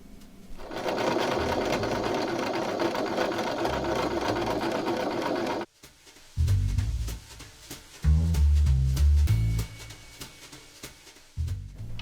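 Sewing machine stitching a quarter-inch seam on patchwork quilt pieces, running in a fast continuous whir, pausing briefly, then restarting in several short bursts of rapid needle rattle, close and loud.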